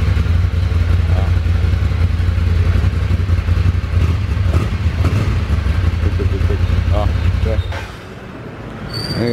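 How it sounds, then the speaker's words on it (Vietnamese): A big-displacement Ducati motorcycle engine runs indoors with a loud, steady, low rumble that fills the room. It cuts out near the end, leaving quieter background sound. "Cái dòng phân khối lớn nổ trong nhà nghe rất là ồn luôn anh em."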